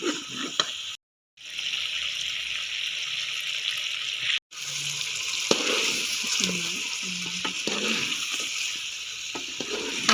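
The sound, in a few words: water being poured into a pot of cooking chicken feet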